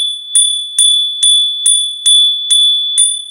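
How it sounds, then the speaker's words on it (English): A bright, ringing bell is struck eight times at a steady, even pace, each strike decaying before the next, loud and close with no talking. "Let me hit the bell."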